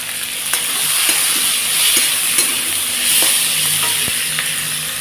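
Onions sizzle steadily in hot oil in a pan, frying until reddish, with repeated scraping and clicking of a spatula stirring them throughout.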